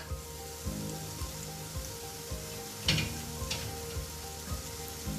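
Onions and tomatoes fry in oil in a covered pan, giving a soft, steady sizzle with regular faint thumps and one sharper crackle partway through, heard alone at low volume.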